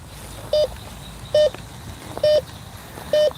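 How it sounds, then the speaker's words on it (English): A Bounty Hunter Tracker metal detector gives four short, clear electronic beeps at a steady interval during a night coin hunt, each beep loud and close over a quiet background. "So right now you're just hearing the one beep when I move to the left."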